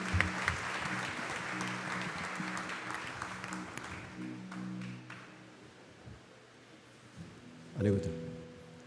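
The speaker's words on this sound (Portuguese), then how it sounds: "Aplauda ao Senhor." Church congregation applauding: a broad wash of clapping hands from many people, fairly faint and steady, with voices running through it before a louder burst near the end.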